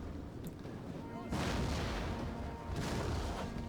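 Artillery booms in a Total War Attila battle, deep rumbling blasts swelling twice over a constant roar of combat, heavy and fairly distant.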